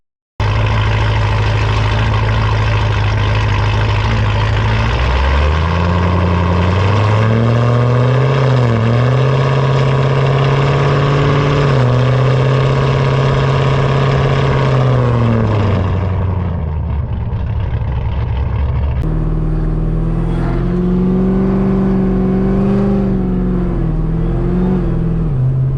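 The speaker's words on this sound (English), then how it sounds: "this car is extremely loud." A ported LSA supercharged Pontiac G8 drives along, its engine loud and close with a deep droning exhaust that rises and falls as the revs climb and shift, settling into a lower steady cruise toward the end.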